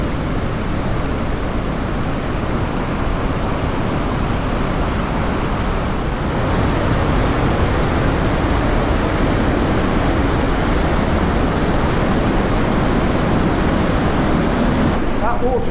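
Trümmelbach Falls, a glacial waterfall from the Eiger thundering through the inside of a mountain, roars as a loud, constant wash of rushing water that swells slightly partway through.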